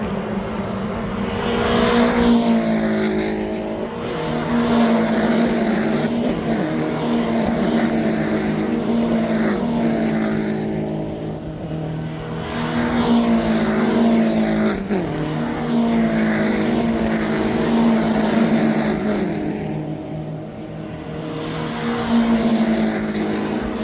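BMW 116i Trophy race cars lapping Brands Hatch, engines droning in waves as packs of cars approach and pass, rising and falling in loudness over the full stretch with no one talking.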